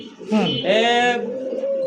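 Lotan pigeons cooing in a loft, two or three throaty, rolling coos in quick succession, close and clear, with a soft steady hum behind them.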